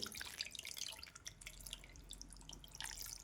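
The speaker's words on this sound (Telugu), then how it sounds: "ఇప్పుడు మనం చింతపండు పులుసు పోసుకుందామండి" Faint tamarind juice trickles and drips into a pot close by, with small splashy clicks and no talking.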